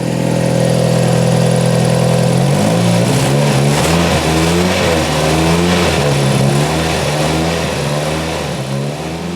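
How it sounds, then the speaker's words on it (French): An old car engine, restored after six years off the road, idling loudly and close with ignition misfires, its low drone stumbling into an uneven, lumpy pulse after the first couple of seconds. "Je crois qu'on a encore les ratés d'allumage, mais au moins on a un bon ralenti"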